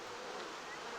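Bees in the video game Anno 1800 give a brief, loud, steady buzzing drone.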